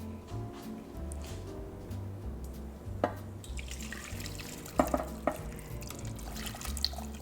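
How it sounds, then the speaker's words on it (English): Liquid being poured into a saucepan while making gravy, a steady watery trickle with a few soft clinks and drips over a low background hum. "I'm gonna pour this into my saucepan."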